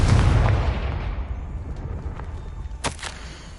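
Blast of the Confringo fire spell in the video game Hogwarts Legacy, a loud boom fading into rumble, followed by a sharp crack near the end.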